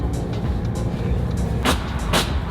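A salvage Mercedes GLA drives along the road with steady engine and tyre rumble from inside the cabin, a couple of brief bumps or clunks near the end.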